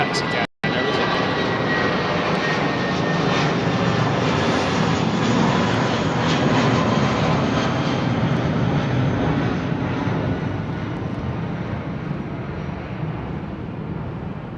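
Jet airliners roar past at London Heathrow Airport, arrivals on runway 27L and departures on 09R, a loud, sustained engine rumble and whine that fills the whole stretch, with people talking faintly underneath.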